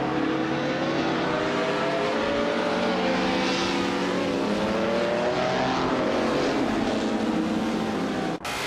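Race cars roar past in a racing video game, engines droning loud and continuous with pitch sweeps as several cars are overtaken, ending in a brief dropout near the end.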